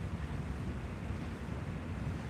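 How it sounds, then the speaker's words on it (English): Steady outdoor water wash, like waves or surf, with wind buffeting the microphone, a continuous full-bodied rush that holds the same level throughout with no voices. "I don't know if you can hear the sound of the water through my phone's speaker"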